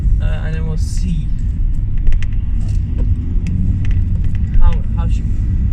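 A remapped diesel Audi A4 accelerates hard, heard from inside the cabin as a loud, constant low engine rumble with people talking over it.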